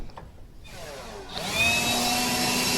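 A blower clears grass clippings and dirt out of a lawn mower deck, with a whining airflow that surges up and grows louder, steady and rushing to the end.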